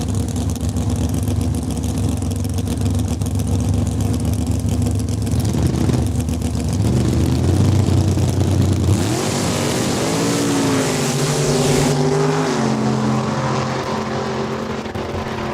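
Drag race cars, including a 1966 Chevelle, launch at a quarter-mile start line at Saskatchewan International Raceway, loud engines roaring steadily and then revving up in rising sweeps as they pull away.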